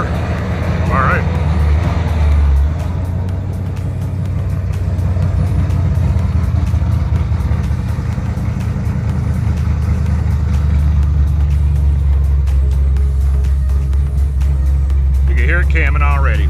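A car with an aggressive cam idles and rumbles steadily at close range while being pulled out of a garage, its lumpy low idle continuous throughout with brief voices at the start and end.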